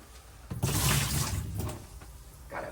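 Liquid is poured into the sink and shower drain of a Forest River Wolf Pup RV, a steady splashing gush that swells and fades with a brief second pour at the end.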